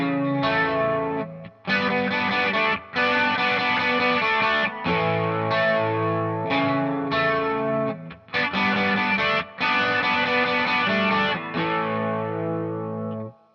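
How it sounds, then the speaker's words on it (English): An electric guitar with a chorus and distortion effect strums a run of add9 chords in rhythmic bursts, loud and close, with brief gaps between the ringing chord stabs. "So if I put chords with it, it'll sound like this."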